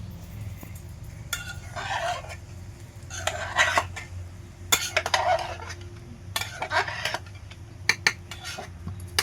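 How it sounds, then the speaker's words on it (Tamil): Metal pots and a pressure cooker are opened and handled in a home kitchen while Tamil sambar is cooked, giving intermittent clinks, clatters and scrapes over a low background hum, with no one talking. "இப்போ வந்து குக்கரில் போட்டது எல்லாத்தையும் ஓப்பன் பண்ண போகிறாங்க"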